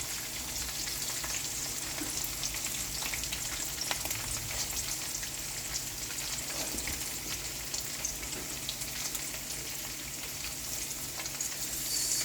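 Pork browning in hot oil gives off a steady, even hiss and crackle that runs without a break, faint and close, with occasional light pops and no talk.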